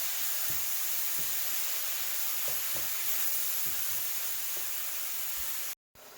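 Ground beef, shrimp and white onion fry on a Dash griddle with a steady broadband sizzle and hiss, marked by a few soft scraping taps and a brief dropout near the end.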